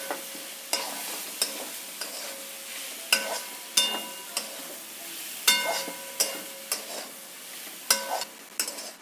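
Chicken keema samosa filling being stirred in a pan, with a steady run of sharp spoon scrapes against the metal over a light sizzle. The strokes are close and distinct, in an irregular rhythm, and no one talks.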